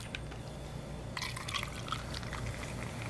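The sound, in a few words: tonic water poured into a glass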